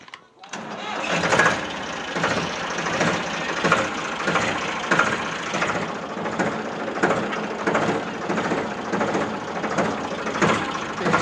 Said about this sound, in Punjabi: ਚੱਲਦੇ ਆਂ ਹੁਣ ਆਪਾਂ ਟਰੈਕਟਰ ਲੈ ਕੇ